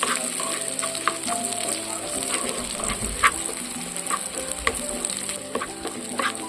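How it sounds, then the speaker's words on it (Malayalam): Dried red chili and curry leaves sizzle in hot tempering oil for an Angamaly mango curry, a steady close crackle and hiss with small pops and occasional stirring. "പിന്നെ ഒരു വറ്റൽമുളക് ഇതിലേക്ക് ചേർത്ത് കൊടുക്കുന്നുണ്ട്. പിന്നെ അല്പം കറിവേപ്പില ഇട്ട് കൊടുക്കുന്നുണ്ട്."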